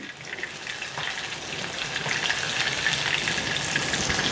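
Cheese patties fry in oil in a pan, giving a steady, dense sizzle that grows slightly louder over several seconds, with no talking.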